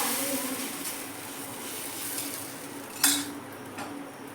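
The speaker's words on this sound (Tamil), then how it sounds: "தோசைக்கல் காஞ்சிருச்சு. ஒரு கரண்டி மாவு எடுத்து ஊற்றி விட்டுருலாம்." Ragi adai dosa batter ladled onto a hot griddle, a faint steady sizzle with light scraping and a brief sharp clink of the ladle midway, close and alone with no talking.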